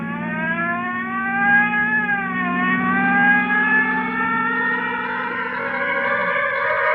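A wailing police car siren from a radio drama, loud and steady, rising and falling in long sweeping tones for several seconds with no voices over it.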